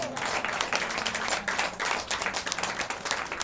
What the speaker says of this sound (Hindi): तेज से ताली दीजिए।